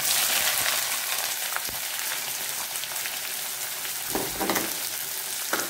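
Sliced onions sautéing in a hot pan for masala dosa, a steady close frying sizzle with faint stirring scrapes throughout, no voices.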